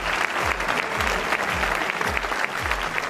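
A studio audience claps steadily after a singing performance at a Tibetan youth song contest, a dense, even burst of applause with a few rhythmic low thumps underneath, close and loud throughout.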